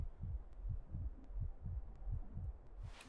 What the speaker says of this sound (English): for some reason our heartbeat's going pretty good